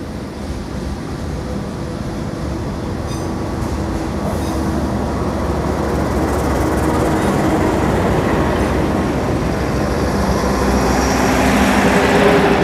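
A heavy passenger train, the Sembrani, rumbles steadily nearby as it pulls into Jakarta Gambir station, a broad roar of wheels and rails that grows gradually louder as it rolls in, with no voices.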